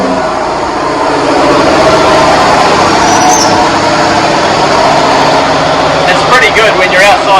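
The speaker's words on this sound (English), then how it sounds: "This gives you an idea of how noisy that compressor is." Loud, steady mechanical drone of a large refrigeration compressor running close by in a boat's engine room, filling the whole clip with a dense rumbling hum.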